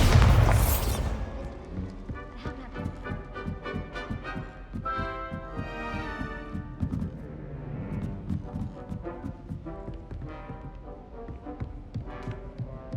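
In the Hogwarts Legacy video game, the Bombarda spell goes off as one loud, broad blast at the very start. A continuous game music bed with steady rhythmic pulses carries on underneath.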